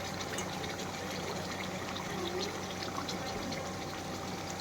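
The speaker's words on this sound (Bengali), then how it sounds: "নামানোর আগে একটু সর্ষের তেল দিয়ে দিচ্ছি।" Mustard oil poured into a simmering shorshe ilish curry, a soft, continuous trickle over a low bubbling background, fairly quiet and without talking.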